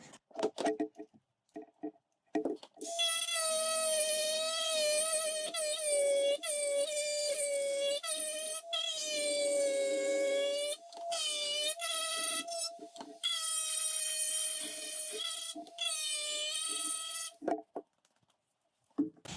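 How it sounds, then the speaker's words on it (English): A die grinder with a square head grinds a Classic Mini SPI/MPI relay pack, letting out a loud, steady high-pitched whine that dips and resumes in several long bursts, with short gaps where it spins down. "That die grinder made light work of that."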